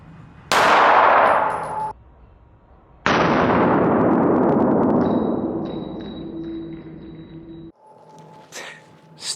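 A pistol topped with a Vortex Defender red dot fires two loud, close shots, each followed by a sharp clang off a steel target and a long ringing decay, with a short quiet gap between them.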